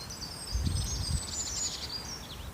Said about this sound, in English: As you might be able to hear with the birds in the background